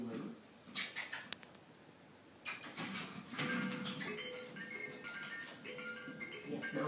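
A ten-week-old puppy making small squeaky mouth noises and soft smacks while playing indoors, in faint intermittent bursts close by.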